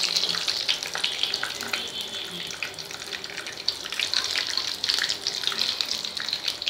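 Unpolished sesame seeds frying and puffing in a pan, giving a steady hissing sizzle with dense crackle that swells and eases, close and fairly loud, with no speech.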